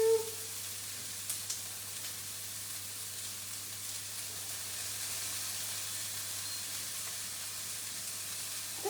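Onions frying over medium heat in a pan, likely with garlic, for a beef lasagne: a steady, soft sizzling hiss runs throughout at moderate level, with a couple of faint clicks near the start.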